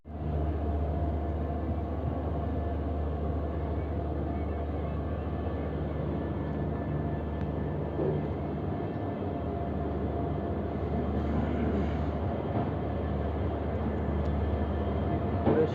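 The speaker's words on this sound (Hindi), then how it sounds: "6:10 AM को गुवाहाटी से रवाना हो चुके हैं हम लोग के जनशताब्दी एक्सप्रेस" Steady rumble of the Guwahati–Jorhat Town Jan Shatabdi Express, hauled by a WAP7 electric locomotive, rolling along the line with a continuous low drone and faint clatter throughout, no talk.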